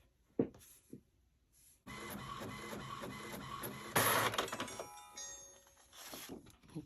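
Home printer printing planner inserts, a few soft clicks followed by a steady mechanical whirring and feeding that grows louder midway, then fades into quieter rattles, heard close up with no talk.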